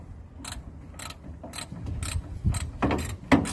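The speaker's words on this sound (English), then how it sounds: "Tighten these mount bolts for this wheel cylinder up." Ratchet tightening wheel cylinder mount bolts on a 1965 Mustang, a series of quick clicking bursts in irregular strokes, fairly close, with light metallic clunks between them and no talking.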